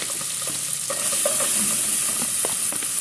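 Chopped onion, with grated garlic already in the pan, sizzling in a hot pan: a loud continuous frying hiss with occasional scraping and stirring taps, no speech.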